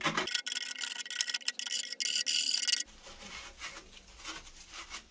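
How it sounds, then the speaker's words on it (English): A hand file rasps across the freshly cut edge of a plastic waste pipe in quick close strokes for about three seconds, then softer, fainter scraping follows, with no talk. "Smooth the edge with your file on the inside of the pipe as well."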